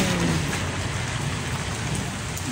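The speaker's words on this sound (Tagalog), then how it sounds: "Lakas-lakas na din konti yung ulan." Heavy typhoon rain with strong wind pours steadily and densely throughout, a continuous loud hiss of drops with no talking.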